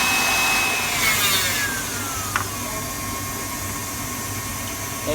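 A spatula scrapes a bowl holding a melted chocolate, butter, sugar and egg yolk mixture. The rubbing and scraping is steady, loud and close, with one brief knock partway through and no talking.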